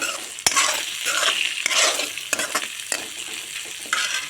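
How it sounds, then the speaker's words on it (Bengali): Cumin and coriander powder frying in a pan for an egg and potato dish, stirred with repeated scraping strokes over a steady close sizzle, with a few sharp utensil knocks and no talking. "জিরা গুঁড়ো, তারপর দিয়ে দেব ধনিয়া গুঁড়ো 1 চামচ, দিয়ে নাড়তে থাকবো।"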